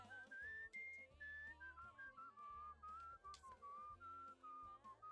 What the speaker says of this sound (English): We whistle while we walk.